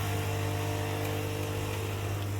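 Renovation work at a neighbouring home produces a steady droning machine hum with a low buzzing tone, continuous and muffled as if through walls, with no voices.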